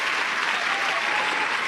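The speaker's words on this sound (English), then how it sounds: "Why you keep hitting the clapping button?" A dense burst of canned applause from a clapping sound-effect button plays loud and steady, uniform clapping with no voices over it.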